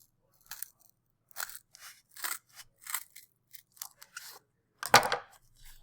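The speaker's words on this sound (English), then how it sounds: "You kind of need a bigger pair of scissors to do it because this cardboard's a little thick." A large pair of scissors cuts through thick cardboard in a series of separate crunching snips, close and dry, with quiet gaps between them and one louder, longer cut near the end.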